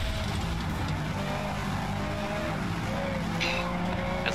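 A racing car engine roars continuously with screeching tire squeal during a demolition derby final in FlatOut: Ultimate Carnage, loud and close with a brief sharp skid near the end.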